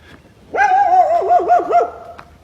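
A dog whimpers and whines in one long, wavering high-pitched cry lasting nearly two seconds, close and fairly loud, ending with a short sharp yelp; no one speaks.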